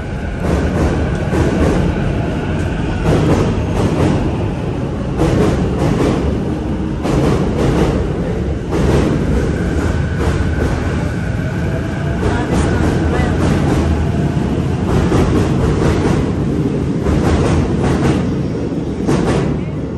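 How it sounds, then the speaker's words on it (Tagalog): A train departs from a station in Kannai, Japan, rumbling steadily with rhythmic rail clatter, loud and close for the whole stretch, with a few faint voices mixed in. "Ayan na, nakaalis na ang tren."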